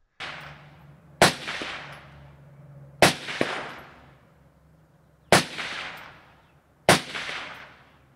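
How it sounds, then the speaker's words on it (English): Four loud musket volleys crack out one at a time, each sharp report followed by a long echoing decay that fades before the next shot. "they only had muskets, which could fire 3 rounds a minute"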